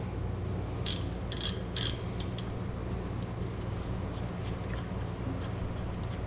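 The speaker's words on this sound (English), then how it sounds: "So next, I'm going to remove these two bolts." A hand ratchet loosens 14 mm brake caliper bolts on a 2014 Lexus GS 350 with Brembo brakes, giving a few quick clicking bursts early on over a steady low background hum.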